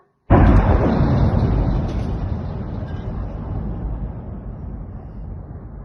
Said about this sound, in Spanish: Incluso acá tienen la explosión en un audio en vivo. Escuchemos esta explosión.